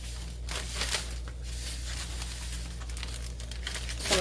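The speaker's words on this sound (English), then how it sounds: "I'm gonna just take a plastic bag, Ziploc bag, and pour over me some cornmeal." Plastic Ziploc bag crinkling and rustling close up as yellow cornmeal is poured in for coating fish, a steady papery crackle with soft patter throughout, no talking.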